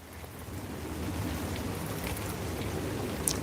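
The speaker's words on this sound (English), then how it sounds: "It's raining." Steady rain falls outside a caravan at night, a constant broadband hiss that builds slightly and holds evenly, with no voices.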